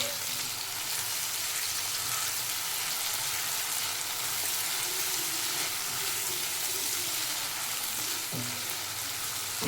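Tomato frying in a pan with ginger garlic paste and salt, a loud, continuous sizzle with occasional stirring scrapes and no talk over it.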